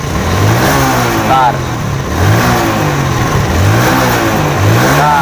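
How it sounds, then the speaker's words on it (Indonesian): A fuel-injected motorcycle engine with a stumble at low throttle gets light, repeated blips of the throttle, loud and close, rising and falling in several short surges while someone speaks briefly over it. "kita coba gas dikit-dikit ya, karena permasalahannya tadi di gas awal"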